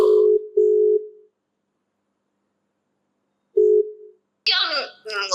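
An outgoing video call rings out with a low steady ringback tone: two short pulses, a long silent pause, then another pulse, followed by a brief burst of voice at the end.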